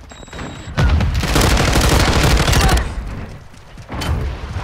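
A Semtex grenade goes off in Call of Duty MWII, a loud booming blast that rumbles on for about two seconds amid heavy gunfire, then fades before a second, smaller burst of shots.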